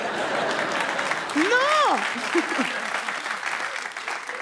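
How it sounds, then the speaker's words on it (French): Applause from a comedy club audience, steady and fairly loud across the clip, with a voice speaking over it partway through. "Merci d'applaudir, ça fait mal."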